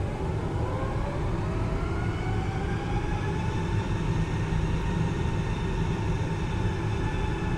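The engines of a PMDG Boeing 777-200ER airliner in a flight simulator hold a steady roaring drone with rising whine tones and a continuous broadband rumble, with no talking.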